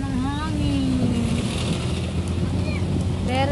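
Strong wind buffets the microphone in a constant rushing roar over a low engine hum, with faint tonal sounds drifting through.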